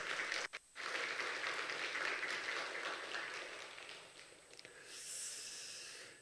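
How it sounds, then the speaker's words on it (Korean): Applause fills a church as the congregation claps for a missionary couple, a steady, fairly quiet wash of many hands that dips briefly near the start and swells again toward the end. "기드온 선교사님 부부 잠깐만 일어나 주시면은 경례 박수 한번 해주시기 바랍니다"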